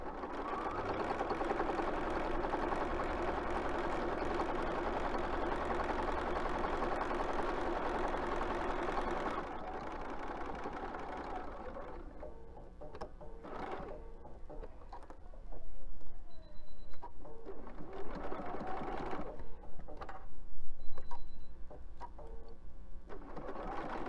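A sewing machine runs a steady, continuous mechanical drone as it stitches along the edge of a spring chicken basket, loud for the first ten seconds, then quieter with intermittent bursts and pauses.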